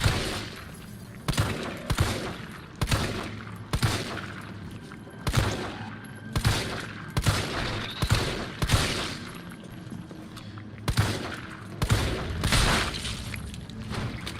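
Repeated bursts of gunfire against zombies in Resident Evil 3, sharp shots landing in irregular clusters across the whole stretch, loud and close, with game ambience between volleys and no talk.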